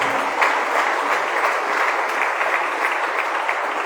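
A church congregation claps together in worship, a sustained, even wave of many hands applauding throughout.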